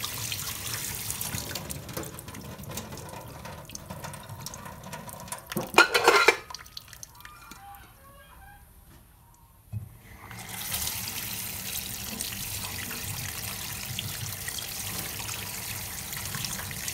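Raw shrimp rinsed one by one under a running kitchen tap, a steady close trickle of water with a brief louder splash, then a short quiet pause before the flow resumes.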